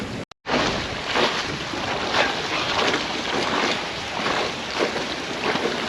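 A sailboat under full sail moves at five and a half knots in a light ocean breeze, with loud, steady wind buffeting and rushing water along the hull. A short dropout comes near the start, and no one speaks.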